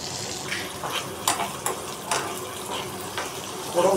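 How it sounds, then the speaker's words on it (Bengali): Cashews and raisins frying in oil in a home kitchen pan for khichuri, a soft uneven sizzle with scattered splashy crackles, close by and moderately loud. "মা এখানে কাজু আর কিশমিশ ভেজে নিচ্ছে খিচুড়িতে দেওয়ার জন্য।"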